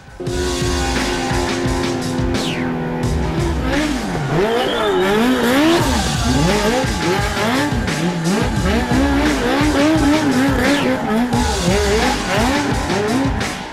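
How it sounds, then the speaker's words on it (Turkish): The Volkicar race car roars and revs in a close press demonstration. Its engine note swoops up and down continuously while the tyres squeal repeatedly, loud throughout with no talking. "Volkikar ismini veren Işık, aracın tanıtımı için basın mensuplarına minik bir de gösteri yaptı."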